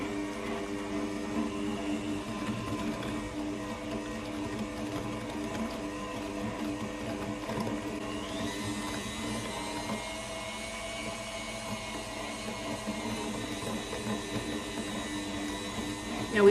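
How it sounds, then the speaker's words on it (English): An electric hand mixer beats orange pecan French toast batter with a steady, close motor whine that runs unbroken, its pitch rising slightly partway through as the beaters work. "So then, trusty hand mixer. And then you're gonna beat all of this together."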